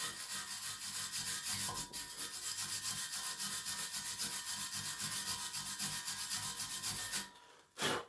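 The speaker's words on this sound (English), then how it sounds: "a wire brush" A wire brush scrubs flux off a gasless MIG weld bead in fast, rhythmic back-and-forth strokes. The steady, harsh scratching goes on for several seconds, then stops briefly before a final short burst, with no voices.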